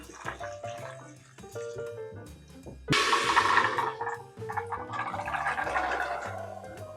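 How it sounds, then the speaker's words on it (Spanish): Fresh water pours and splashes into a batch of fermented beans in two bursts of rushing, broadband noise, set against steady tonal background music. "Y la mezclo con agua nueva."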